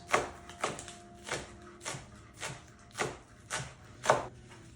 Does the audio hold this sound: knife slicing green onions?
yes